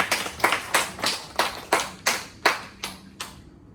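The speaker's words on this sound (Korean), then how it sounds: "하나님께 영광의 박수 올리십시다." A congregation at a Korean high school church service claps in about nine separate, even bursts, moderately close, with no talking over it.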